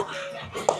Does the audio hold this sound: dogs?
yes